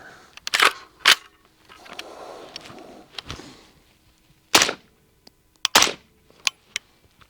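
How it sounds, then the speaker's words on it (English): A PSA Jakl pistol in .300BLK fires with a suppressor attached, giving several sharp, close reports spaced irregularly with quiet gaps and mechanical clatter between. "I have never fired this gun with a can on it"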